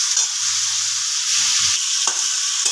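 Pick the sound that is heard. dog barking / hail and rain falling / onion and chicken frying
onion and chicken frying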